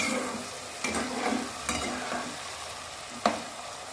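Lote fish sizzle in a hot pan with garlic paste, salt and turmeric, a soft steady frying hiss broken by a few sharp stirring scrapes.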